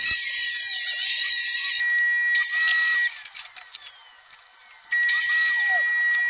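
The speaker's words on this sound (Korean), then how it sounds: "먼저 아카시아 나무 판재를 너비 100mm 크기로 재단합니다" A power saw rips an acacia wood board to 100 mm width, giving a loud, steady high whine in two long passes with a quieter, uneven stretch between them.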